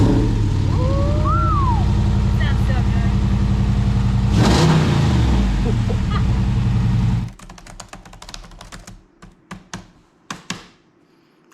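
A Jeep Wrangler with a swapped-in Hemi engine rumbles loudly through its new exhaust, holding a deep steady drone before cutting off abruptly, followed by quieter scattered clicks and taps.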